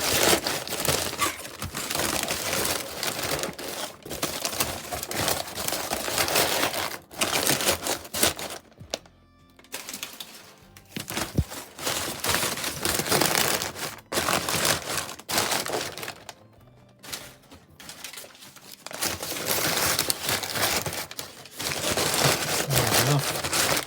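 Packing paper is crumpled and crinkled by hand around comic book mailers, producing loud, close bursts of crackling and rustling with brief pauses between handfuls.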